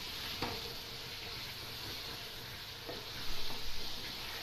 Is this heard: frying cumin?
yes